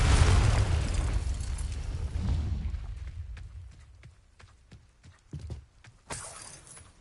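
A Confringo blasting spell explodes in the video game Hogwarts Legacy, a loud boom at the start fading into scattered debris clatter and light footsteps, then a brief sharp burst near the end.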